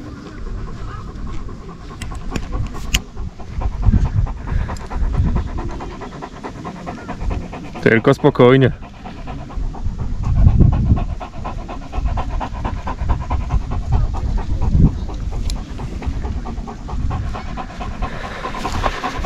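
A dog pants steadily and rapidly up close for the whole stretch, with a brief short phrase spoken partway through.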